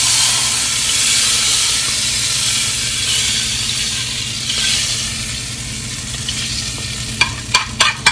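Eggs fry in butter in a hot pan, a loud, dense, continuous sizzle heard up close that hisses steadily throughout, with a few sharp clicks and knocks near the end.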